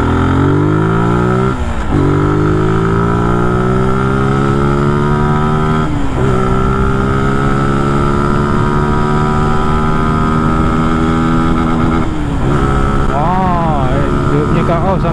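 Older Zontes 150cc naked motorcycle with a clutch, its single engine revved repeatedly near the mic, rising to high pitch three times with brief drops between, loud and sustained throughout.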